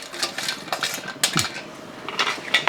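Fried mango pieces tipped into a cooking pan for a Kerala oil-mango pickle, a close series of clinks, scrapes and light metallic clatter of utensil against pan, fairly loud and irregular.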